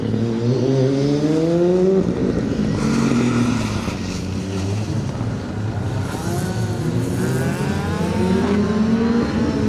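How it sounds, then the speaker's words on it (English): A 2-litre Ford Escort rally car on a circuit stage at Snetterton, its engine revving loudly through repeated rising and falling gear changes, close and continuous with no talk. "Scott Rayner, Maria Rayner, home next in the 2-litre Escort."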